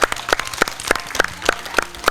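A small audience claps steadily for a sponsor at an event in Padua on gesture for blind and visually impaired children; the claps are sharp, evenly spaced and moderately close, with no talk over them.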